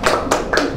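Classmates applaud a second group of Year 6 pupils during a Malay-language lesson in a primary classroom, heard as a few quick bursts of hand clapping, close and fairly loud.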